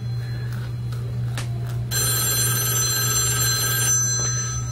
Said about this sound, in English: Why does the phone always ring when I'm doing this?